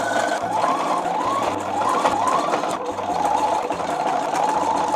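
A sewing machine stitches two fabric pieces together for a corset made from a notebook, running as a close, steady whirring hum with a rapid needle rhythm and brief pauses, with no talking.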